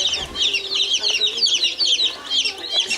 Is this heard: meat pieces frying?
no